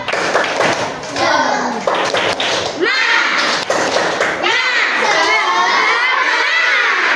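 A group of children claps and shouts together in an energetic Indonesian 'tepuk semangat' spirit-clap chant before a classroom game, loud and close, with voices rising over the rhythmic claps.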